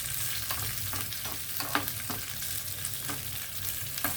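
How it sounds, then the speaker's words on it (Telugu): Sago pearls dry-roasting in a pan for dosa batter along with other ingredients, with a low steady hiss and repeated light scraping strokes of a spatula at a regular pace. "ఇప్పుడు ఇవన్నీ ఒకసారి మనం ఏగనిద్దామండి."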